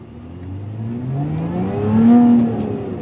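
Lotus Emira V6 with a third catalytic converter delete revving up, a loud, close, rising engine note that climbs and peaks near the end before easing slightly, with no talk.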